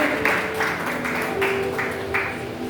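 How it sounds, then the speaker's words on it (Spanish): Church congregation clapping in applause, a steady rolling patter of many hands filling a large room throughout. "Den un aplauso al Señor."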